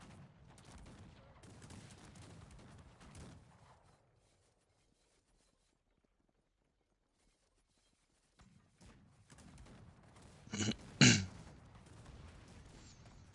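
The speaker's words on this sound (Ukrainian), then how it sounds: "як же шмажуть гармати" Two sharp, loud booms of cannon fire in Cossacks 3 ring out close together after a stretch of quiet, with game rumble and muffled activity before.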